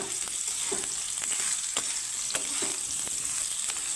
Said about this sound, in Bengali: সবগুলো আমি ঝিঙে দিয়ে দিলাম দিয়ে একটু নাড়াচাড়া করে